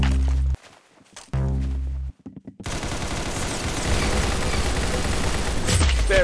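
Gunfire in Roblox Arsenal, loud and close: a couple of heavy shots, a brief lull with scattered pops, then a dense continuous spray of rapid fire that runs to the end.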